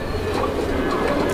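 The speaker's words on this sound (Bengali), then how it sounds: "দেখেন আপনারা কবুতরগুলো দেখেন" Pigeons at a crowded pigeon market coo in low, rolling murmurs, several birds close by and overlapping continuously, with a voice talking underneath.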